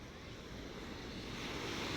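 Steady rushing sea waves with wind on a Taiwan coast, a continuous broadband wash that swells slightly louder toward the end.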